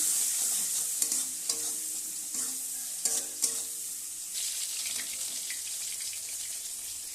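Pabda fish with tomato, cumin paste, salt and turmeric being stirred in a pan, a soft steady sizzle with a few sharp clinks of the spatula, no talking.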